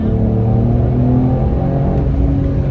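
A Porsche 911 base model accelerates with a loud, close engine rumble whose rising harmonic tones climb steadily throughout the short burst.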